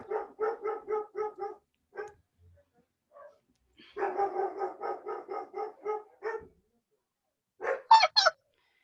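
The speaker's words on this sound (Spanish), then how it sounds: "Mi perrito está ladrando" A small, fearful dog barks in rapid bursts indoors, several quick sharp yaps in a row, a pause, another fast string, then a few higher, whining yelps near the end.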